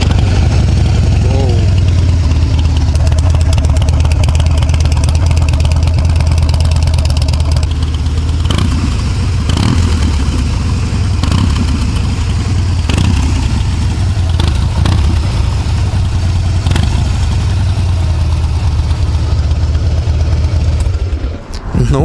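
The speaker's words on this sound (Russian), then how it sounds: "Заводится он очень прикольно, он начинает весь трястись, как любой харлик." A Harley-Davidson Heritage motorcycle starts and settles into a loud, close, low rumbling idle that carries on steadily, with a few sharper mechanical knocks partway through.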